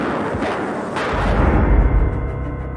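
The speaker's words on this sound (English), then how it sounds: "A man came out and fired some blanks at the pair." Blank shots fired from a cartridge pistol during a royal public event: a couple of sharp close bangs followed by a rumbling low boom that lingers, heard without talk.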